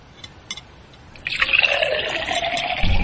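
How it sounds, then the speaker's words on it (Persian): Water poured into a cup or glass in a home kitchen, a steady rising fill sound that starts after a second of quiet room noise and runs to the end, close and moderately loud. "امیر به من آب میدهی؟"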